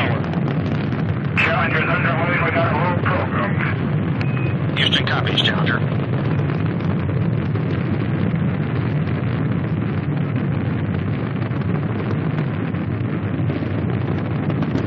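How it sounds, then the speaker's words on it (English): Space shuttle Challenger lifts off on the sixth shuttle flight with a loud, continuous broadband roar that holds steady throughout, and a few faint voice bursts sit under the roar near the start. "liftoff of the orbiter Challenger and the sixth flight of the space shuttle"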